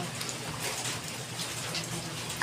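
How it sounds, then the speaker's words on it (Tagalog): Steady rain falling outdoors in cold weather, a soft continuous patter of drops with occasional nearer splashes, fairly faint and even throughout with no voices. "Umuulan, ang lamig-lamig."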